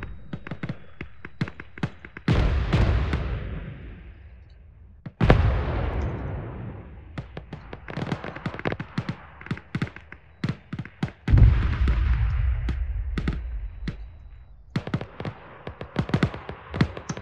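Mortar fire in the military game Arma 3: several heavy booms with long rumbling decays, spaced a few seconds apart, mixed with sharp irregular cracks and taps of distant gunfire.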